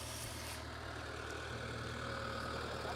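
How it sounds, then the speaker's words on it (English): A tractor engine rumbles as a steady low drone throughout, faint and somewhat distant, with no clear rise or fall and no voices. "It's a nice tractor."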